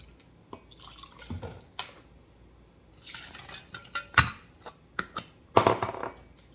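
Thieves household cleaner poured by the quarter cup into a bottle, heard as close, uneven splashes and drips with a few glassy clinks in a quiet room.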